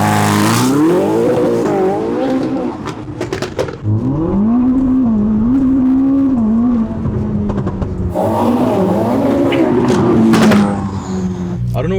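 A straight-piped, tuned Ferrari SF90 engine revs and accelerates hard, pitch climbing through several gear shifts, loud and close, with a voice talking over it at times.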